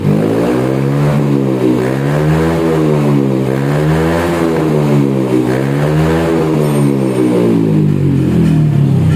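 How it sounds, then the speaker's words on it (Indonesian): A Honda Beat Deluxe scooter fitted with an SKR Racing exhaust revs loudly and close up, the engine note rising and falling in repeated throttle blips over a steady idle, with no talk. "Lembut tapi digebernya teriak ya."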